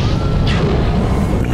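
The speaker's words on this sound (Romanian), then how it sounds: "iar tunetele bubuiau" Thunder rumbles heavily and continuously, a deep, loud roar filling the whole moment with a slightly brighter crack near the middle.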